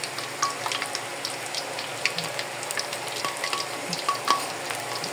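Eggplant slices frying in oil in a wok, a steady close crackling sizzle with scattered sharp pops and spits throughout, no talking.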